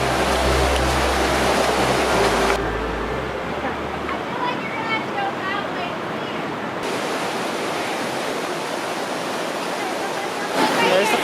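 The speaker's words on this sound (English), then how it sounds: "So stop number 1 is a waterfall." A waterfall on an off-road trail near Silverton, heard as a broad, steady roar of rushing water that fills the whole stretch, with a vehicle rumble at first and people talking over it.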